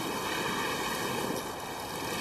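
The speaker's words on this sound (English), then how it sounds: "The waves are becoming violent." Violent ocean waves produce a continuous, loud, broadband roar of surf and rushing water, steady and dense throughout without distinct breaks.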